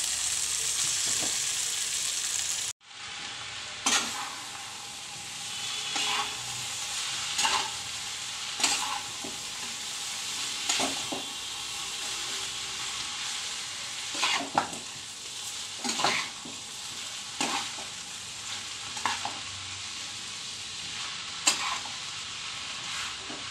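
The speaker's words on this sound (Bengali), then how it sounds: "এইবার আমি আগে থেকে সেদ্ধ করে রাখা চাউমিনগুলো ওতে দিয়ে দেব।" Boiled chow mein noodles stir-fried for vegetable chowmein in a hot pan, a continuous close sizzle broken by repeated rhythmic scraping stirs, with a brief pause near the start and no talking.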